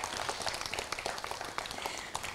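An audience at a Bharatanatyam arangetram gives dense, continuous applause with many overlapping claps, heard fairly quietly from within the hall.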